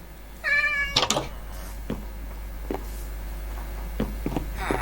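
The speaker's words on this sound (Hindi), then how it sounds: "यहाँ में ब्लैक कैट भी नज़र आई।" A black cat in the Minecraft video game meows once in a clear, harmonic call, followed by a few soft, faint clicks and blips of game activity.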